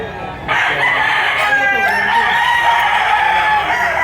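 A rooster for sale at a rainy market in Lipa, Batangas lets out a long, loud crow close by, with other birds and murmuring people faint behind it.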